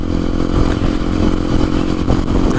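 A Ninja 300 sport motorcycle accelerates hard toward top speed, its loud engine roaring continuously up close with a rough, buzzing tone and wind rush.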